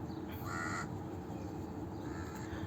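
A crow gives a single loud caw, then fainter calls follow over a steady background hum, beside a canal in Dubai.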